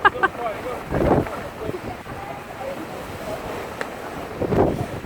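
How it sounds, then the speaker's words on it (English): Extreme wind on Castle Hill in Huddersfield buffets the microphone in loud, rumbling gusts that swell and fade over a constant roar, with no clear talking. "It's rather windy. Just step out so it catches the microphone."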